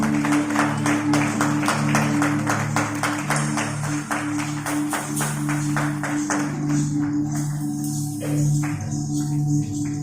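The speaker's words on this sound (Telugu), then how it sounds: "అందరం చప్పట్లు కొడదాం." An audience at a golden jubilee wedding anniversary celebration claps in steady, rhythmic applause for several seconds that gradually thins out into scattered claps, with a low hum underneath.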